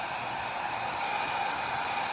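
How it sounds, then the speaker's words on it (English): A handheld hair dryer blows steadily and close up, drying a DIY stackable-books farmhouse décor craft, with an even, unbroken roar and no talk. "So I'm just hitting this with a hairdryer."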